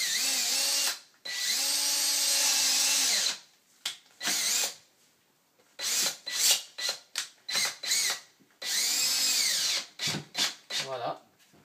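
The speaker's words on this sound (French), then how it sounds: "Avec une vis placo, de visser directement." A power drill whirs in several bursts, long runs then short stuttering pulses as a drywall screw is driven in, close by, with a voice briefly under it.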